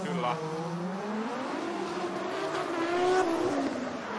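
Drift cars rev hard at a Lahti drifting event in a chase battle, engines rising and falling in pitch as they slide past, loud and near with a commentator talking over them.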